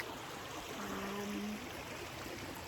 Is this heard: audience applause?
no